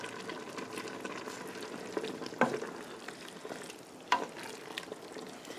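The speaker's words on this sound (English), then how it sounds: "I'm going to break up the cabbage as well." Cabbage broken up and stirred in a simmering pot of corned beef, with soft crackling and bubbling throughout and two sharp utensil knocks against the pot, close and with no talk.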